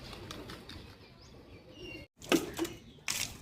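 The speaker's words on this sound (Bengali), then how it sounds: "আমি পায়রাগুলোকে খেতে দিয়ে দিয়েছি।" Pigeons being fed scatter and flutter, with a couple of sharp bursts of flapping wings breaking through a low, busy background of soft rustling and faint coos.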